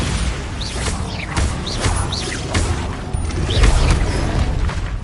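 Bombarda blasting spell explosions in a Hogwarts video game, a rapid series of booming blasts and crashing impacts with whooshing spell sweeps and mechanical clatter, loud and continuous.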